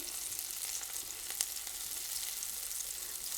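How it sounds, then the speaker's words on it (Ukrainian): Onions frying in a pan until translucent give a soft, even crackling sizzle that holds steady throughout, with one brief clink partway, no voices. "Цибулька підсмажується до прозорості"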